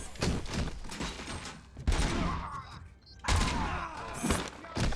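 Grenades go off in the shooter game Robocop: Rogue City as a string of heavy thuds and blasts with gunfire crackle, loud and close, each burst trailing off in a rumbling tail.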